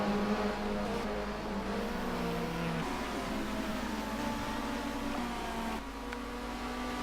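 Race cars in the rFactor sim at Rockingham, a steady engine drone with shifting revs and tones from several cars, moderately loud and continuous with no talking.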